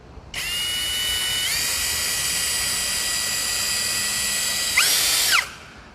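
STR cordless brushless drill with a long bit fitted spins up to a steady high whine, holds it for several seconds, revs briefly higher and then winds down, close and alone.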